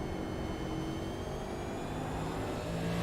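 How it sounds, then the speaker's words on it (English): Race car engine in a NASCAR Next Gen Cup Series racing video game, a steady loud drone with revving as it downshifts while braking into a turn, continuous and close throughout. "he shifted down to help with the braking into the turn"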